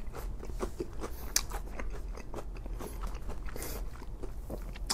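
Someone bites into an onion ring dipped in piping hot cheese sauce, with close, crisp crunching and continuous chewing, loud and near, with no talk.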